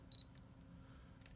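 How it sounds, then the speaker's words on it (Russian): Short double beep from a single-lens reflex camera confirming autofocus as the shutter button is half-pressed, two quick high chirps close to the microphone in an otherwise quiet room. "вы слышите звуковой сигнал"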